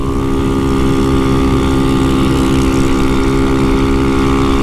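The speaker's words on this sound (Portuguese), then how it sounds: "a minha moto tá com força" A Honda Fan 150 motorcycle engine drones loud and steady while riding on a trip to the beach, its harmonic buzz holding an even pitch with wind rush throughout.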